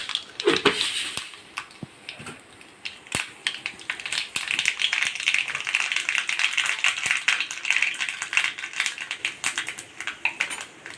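Mustard seeds pop and splutter in hot coconut oil in a pan, a dense crackle of sharp irregular snaps that builds into a steady close sizzle, with no talking.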